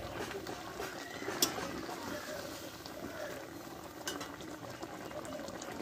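Vegetarian eggplant curry with garam masala simmers in a pan, a soft, low bubbling texture with a few small pops, faint and continuous.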